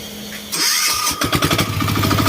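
A 16 hp diesel engine on a 1 m walk-behind mower starts up: a cranking whir leads into a rough catch, then settles into a loud, steady rhythmic chug nearby.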